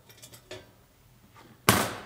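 Cast iron grill parts clinking as the coal tray is stacked onto the stand during reassembly of an all-in-one cast iron grill: a few light metal taps, then one sharp, loud clank.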